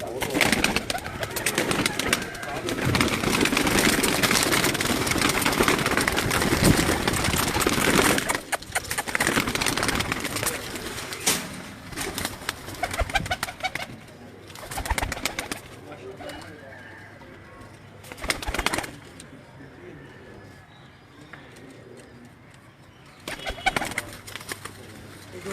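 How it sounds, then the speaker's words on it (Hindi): Pigeons cooing and fluttering close by on a rooftop in Rawalpindi amid rustling and shuffling noise, with a voice speaking intermittently over the nervous birds. "कबूतर कुछ डर रहे हैं"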